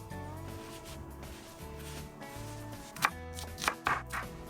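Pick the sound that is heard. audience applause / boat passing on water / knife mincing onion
knife mincing onion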